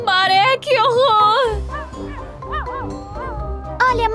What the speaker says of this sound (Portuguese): Morpho, o cachorrinho saltitante está em perigo